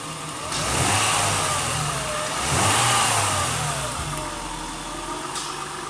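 A 2003 Acura CL Type-S engine runs steadily, a loud close idle that swells twice with brief revs and then settles back to a smooth, even hum, with no voices.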